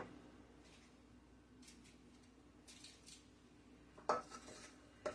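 A metal tablespoon scooping drop biscuit dough for shortcake onto a baking pan, with faint clinks and scrapes of metal on metal and a sharper clatter near the end, fairly quiet and with no talking.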